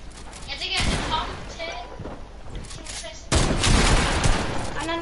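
Gunfire in the video game Fortnite, bursts of shots and heavy bangs that swell loud about a third of the way in and again past the midpoint, mixed under German-speaking players talking.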